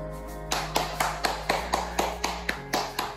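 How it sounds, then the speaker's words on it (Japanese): A steady run of sharp hand claps at a birthday celebration, roughly four per second, echoing in a room over a low background hum. "響くね、拍手が"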